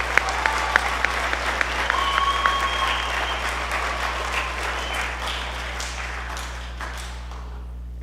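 Audience applause at a school spring band concert for clarinet All-State students, steady clapping from a crowd with a low hum underneath and a few faint tones, fading out near the end.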